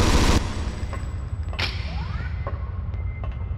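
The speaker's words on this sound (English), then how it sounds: "Oh, they're shooting grenades at me." A loud grenade blast opens, then softer thuds and distant booms follow, as enemies fire grenades at the player in the PlayStation game Alien Resurrection.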